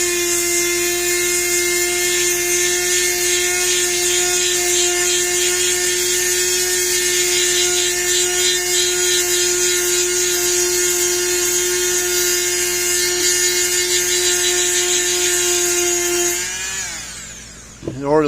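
A steady, high-pitched electric motor whine with a buzzing scrubbing tone from an electric wire-bristle brush moving back and forth runs continuously, then winds down and stops near the end.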